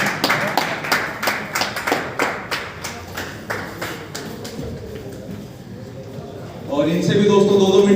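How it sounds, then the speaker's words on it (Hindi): An audience at a live training session claps for the leaders called up on stage, a loud rhythmic round of hand claps that fades out, with a speaking voice over it. "एक बार जोरदार तालियां हो जाएं सभी के लिए।"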